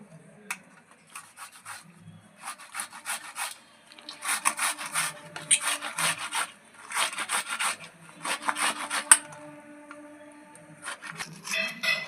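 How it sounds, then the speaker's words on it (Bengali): Tomato and ginger being grated by hand, repeated scratchy rasping strokes in uneven bursts that grow busier midway, fairly quiet and close, with no talking. "টমেটো আর আদা ঘষে নিয়েছি"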